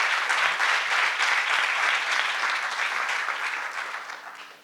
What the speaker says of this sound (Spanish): un fuerte aplauso también para Violeta